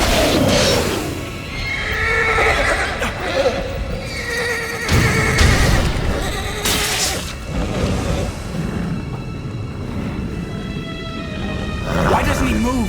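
A horse neighs and whinnies several times amid clopping hooves and whooshing battle sounds, with voices speaking over parts of it.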